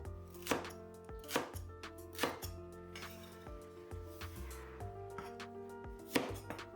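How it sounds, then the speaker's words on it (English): A knife chopping green onion into small pieces on a cutting board, with sharp, close wooden knocks at a fairly even, unhurried pace of about seven strikes. "Now cut this one to small pieces. Same thing with the green onion."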